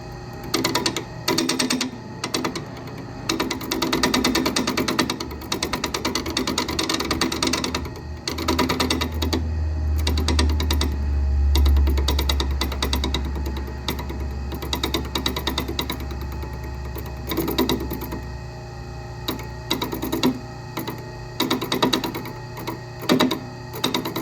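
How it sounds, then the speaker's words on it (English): A metal lathe at its lowest speed turns soft aluminum against a hardened steel chisel during a vintage Mercury outboard bearing carrier repair, giving a steady low hum with rapid, repeated ticking and chattering bursts throughout. "I've got this lathe set on the lowest speed here, and of course this is just soft aluminum, so I'm just using this hardened steel chisel"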